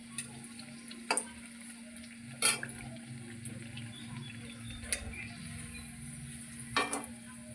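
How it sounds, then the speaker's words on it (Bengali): A Mughlai paratha fries on low flame in a pan, a quiet, steady sizzle with a few sharp clicks and taps of a spatula scattered throughout; no voices. "আমি আরেকটু ভালো করে ভেজে নেব"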